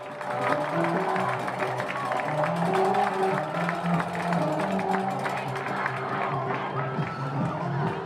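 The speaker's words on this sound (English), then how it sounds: "Cheerleaders cheering." Cheerleaders and fans cheer at a high school football game between Wayne Valley and Tottenville, a loud sustained crowd roar with shouting voices, chanting and scattered clapping throughout.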